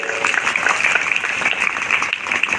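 Applause from an audience at a school seminar hall fills the moment, a dense, steady patter of many hands clapping, with a voice faintly heard beneath.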